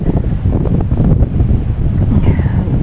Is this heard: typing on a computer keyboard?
no